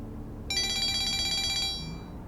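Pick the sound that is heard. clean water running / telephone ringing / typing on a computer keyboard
telephone ringing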